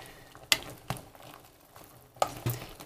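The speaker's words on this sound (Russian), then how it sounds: "Я перемешаю сейчас все." A spoon stirs a vegetable stew in a simmering pot, giving a few scraping knocks and clinks against the pot with a low bubbling between them.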